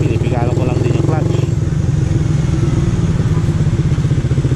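A Suzuki Raider R150 Fi motorcycle engine runs steadily under clutch control with light throttle, a close, continuous mid-pitched drone with a rhythmic low pulse; a voice talks over it early on.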